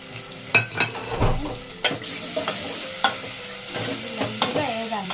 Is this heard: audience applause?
no